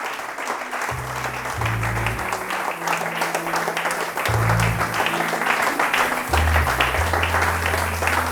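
A church congregation at a Pentecost service breaks into loud applause, with waves of clapping swelling and easing over a sustained low instrumental tone.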